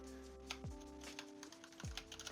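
Soft typing on a computer keyboard, a handful of quiet key presses spread irregularly over a couple of seconds, alone and faint.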